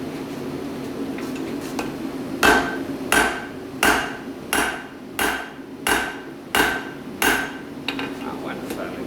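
Eight heavy weighted-hammer blows on hot metal ring out at a steady, even pace during forging, each a sharp metallic strike over a low background hum.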